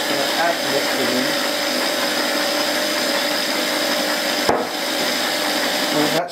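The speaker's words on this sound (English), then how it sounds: "So start the mixer, this is going to be noisy." Electric stand mixer kneading pita bread dough on slow speed, a steady broadband mechanical whir running continuously, loud and close, with a brief knock partway through.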